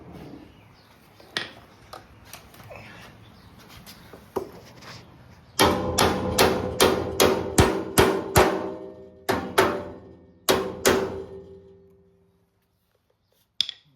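Sharp metallic hammer blows ring out on car body metal, fitting the cowl and firewall of a 1969 Dodge Charger, one after another in quick bursts, loud and close, with a few lighter taps before and a final strike after a pause.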